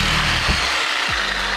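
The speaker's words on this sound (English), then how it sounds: "I'm gonna use this Sawzall, and honestly, you can use anything that cuts PVC" A Sawzall reciprocating saw cuts through PVC pipe, a steady close buzzing drone that runs for the whole short stretch, with a couple of brief pitch dips as the blade loads.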